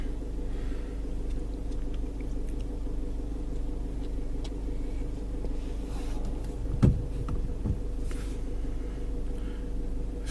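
A car drives along a road to farm barns holding barley, a steady low engine and road rumble running throughout with a brief bump near the middle, no voices.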